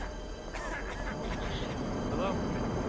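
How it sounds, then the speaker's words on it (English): A duck toy quacks in Hitman: Absolution, with several short nasal quacks spaced across the moment amid game ambience and a low background rumble, while a voice talks nearby. "I want the little bird duck thing."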